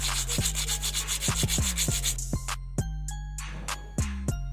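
A bicycle disc brake rotor is rubbed clean, a close, steady scrubbing friction sound with repeated rhythmic strokes, accompanied by sharp descending squeaks.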